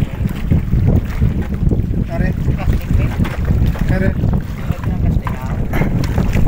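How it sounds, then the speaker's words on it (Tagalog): Strong wind buffets the microphone aboard a small fishing boat on open water off Valladolid, Negros Occidental, a loud continuous roar with water lapping beneath and a voice faintly in the background. "Masarap ng hangin dito mga kabarks."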